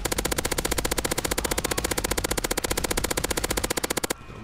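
Rapid, loud, continuous machine-gun fire from a remote-controlled tank in GTA 5 Online, an even stream of shots for about four seconds that cuts off abruptly.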